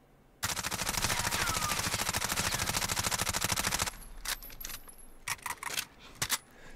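An MP5SD suppressed submachine gun in Call of Duty Modern Warfare fires one long full-auto burst, a steady fast rattle of muffled clicking shots lasting a few seconds, followed by scattered faint metallic clinks and handling noises.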